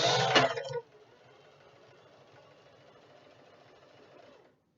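A sewing machine stitches ribbon onto a moss bag: a loud buzzing run of the needle at the start, then a quieter, steady mechanical whir that ends abruptly, with no talk.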